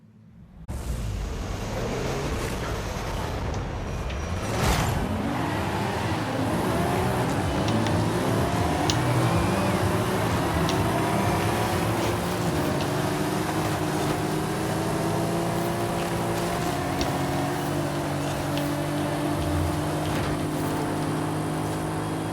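A Mercedes-AMG GT Black Series in Forza Horizon 5 roars continuously at high revs, its engine tone sweeping up and down through gear changes for over twenty seconds, loud and alone with no speech.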